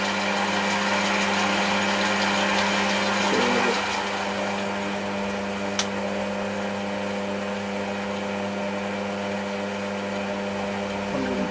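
Chester DB10 metal lathe spinning at 200 RPM, a steady close mechanical hum with a constant motor whine that holds level throughout, with one sharp tick partway through.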